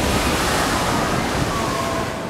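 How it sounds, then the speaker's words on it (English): Ocean waves crash against rocks on a beach at high tide, making a continuous, loud broadband wash of surf with no break. "The waves crashed high over the rocks."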